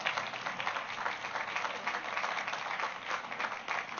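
An outdoor crowd at the Dilworth Park opening applauds the SEPTA transit agency team, a steady, moderate patter of many hands clapping throughout.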